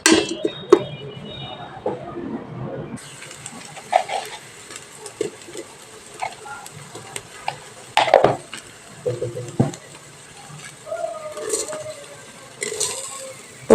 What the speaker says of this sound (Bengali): এখন আমি পোলাও চালটা বসানোর আগে পেঁয়াজটা সুন্দর করে ভেজে নেব।